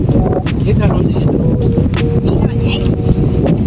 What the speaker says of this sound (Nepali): यसरी हावा आउनु